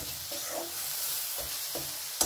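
A spatula stirs pointed gourd paste in a pan over a medium gas flame, giving soft scraping strokes over a faint steady sizzle, with one sharper scrape near the end.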